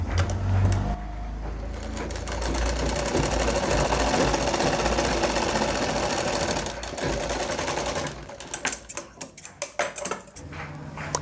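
A sewing machine stitches down a folded bone pocket on trousers, humming in one long continuous run up close before breaking into a few short clattering taps.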